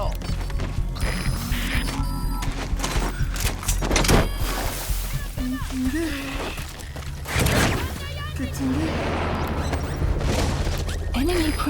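Gunfire and clanking mechanical action in the stealth action game Metal Gear Solid 5: The Phantom Pain, dense and continuous with sharp bursts, layered under game music and radio chatter.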